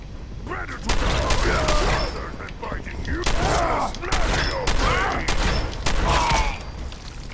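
Shotgun blasts in Fallout 4 fire in a steady run of sharp, loud bursts, each with a short boom tail, mixed with game effects and occasional voices.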